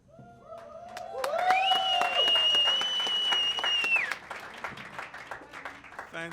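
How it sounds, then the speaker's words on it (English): Applause for award winners at the South Africa AGOA Exporter Awards, steady clapping from an audience running under a sustained electronic tone or music, thinning out toward the end. "Let's give them a big round of applause, all our winners."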